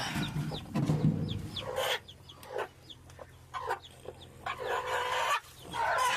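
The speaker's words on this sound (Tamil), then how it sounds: "அஞ்சு முட்டை குஞ்சு பொறிச்சிருக்கு" A hen with newly hatched chicks clucking close by, repeated soft clucks with faint high peeps between them, and no talking.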